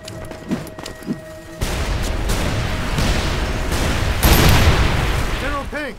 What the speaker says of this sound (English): Nice steady machine gun.